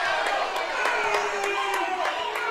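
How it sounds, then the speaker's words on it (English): A college basketball crowd in a gym jeers the officials after a foul call, a noisy mass of shouting and scattered claps with sharp repeated thuds over a steady roar. "The crowd letting the officials have it there"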